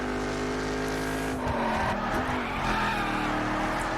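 An Alfa Romeo 4C lapping fast in The Crew racing game, its engine droning steadily at high revs before tires squeal and skid through a corner midway, then the engine pulls on.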